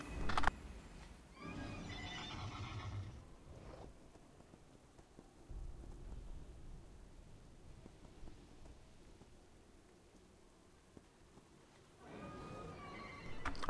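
A horse neighs and whinnies in the World of Warcraft game, two loud whinnies at the start and end framing a long stretch of soft rain-like ambience, with no talking.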